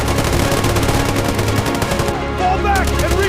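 Rapid automatic gunfire from a soldier-themed combat video game fires in dense, continuous bursts throughout, loud and close, with a brief voice-like cry partway through.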